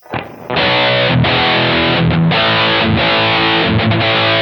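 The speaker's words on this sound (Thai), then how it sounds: "คราวนี้จะมาเป็นเสียง distortion" Heavily distorted electric guitar through a Mooer GE100 metal distortion preset chugs loud power chords in a steady riff after a brief quiet pluck at the start.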